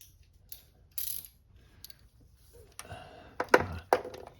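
A ratchet wrench works a spark plug on a Ferrari 328, giving a few close, sharp mechanical clicks and thunks. The clicks come in short bursts that grow louder toward the end.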